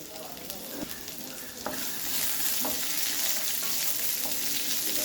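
Onion slices sautéing in oil over low heat in a pan for leftover rice, a steady soft sizzle with occasional stirring scrapes, close and alone without talk.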